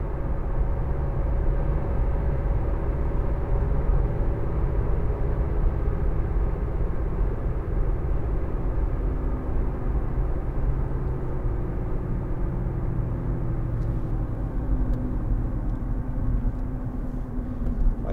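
Steady low road roar from the rear tyres of a 2014 Audi A1 1.6 TDI Sport on the move, a continuous broadband rumble heard from inside the car with no talk.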